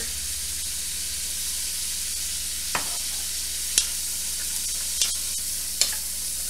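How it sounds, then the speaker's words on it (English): Onions and fresh vegetables with salt and pepper sautéing in a pot for chicken noodle soup: a continuous close sizzle and hiss, punctuated by a few sharp utensil clicks as they are stirred. "We're just going to saute those up until they're soft and the onions are translucent."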